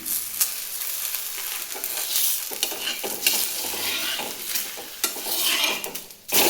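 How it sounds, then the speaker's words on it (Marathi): A bottle gourd thalipeeth flatbread roasts on a hot pan, giving a continuous close sizzle and crackle with occasional soft scraping, with no other sounds. "तोपर्यंत हे थालीपीठ भाजते"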